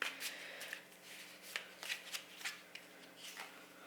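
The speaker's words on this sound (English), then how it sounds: "Cards flying everywhere." Tarot cards are shuffled up close in a series of quick, soft riffles and flicks. The bursts are faint and irregular, with no talking.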